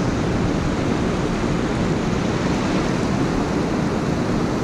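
Ocean surf and wind on the west coast beach at Muriwai at sundown, a loud, continuous, even roar with no voices.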